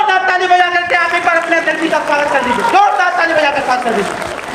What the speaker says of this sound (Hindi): जोरदार ताली बजा कर स्वागत कर दीजिए।